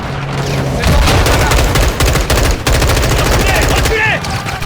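Loud, dense automatic gunfire erupts in a Call of Duty Modern Warfare II battle, with rapid continuous bursts of shots and blasts filling the whole stretch.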